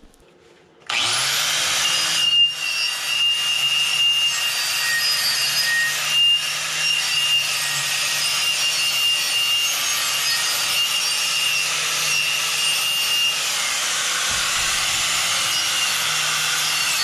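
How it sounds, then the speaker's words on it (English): Wire cup brush grinding rust off a transfer case part from a 2003 Dodge Ram 2500 NP271D, a loud steady abrasive whine that starts abruptly and runs continuously, close up with no talk. "I think I can get it off pretty quickly with this wire cup here"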